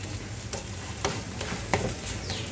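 Raw papaya thalipeeth browning on a hot pan, giving a low steady sizzle with a few soft scraping and tapping sounds from a spatula at intervals, close and moderately quiet, with no talking.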